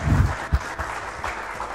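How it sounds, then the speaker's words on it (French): Brief applause from an audience at an award ceremony for a nominee, a short burst of clapping with a few low thumps, fairly close and fading into background murmur. "On l'applaudit bien fort."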